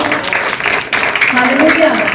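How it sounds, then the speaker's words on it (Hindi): Applause from a congregation at a New Year's night prayer service, a short burst of clapping and cheering mixed with voices and someone speaking over it. "इनके लिए भी तालियां बजाएं जोर से"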